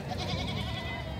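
A goat bleats at a goat market, a wavering, sustained cry over dense background crowd noise.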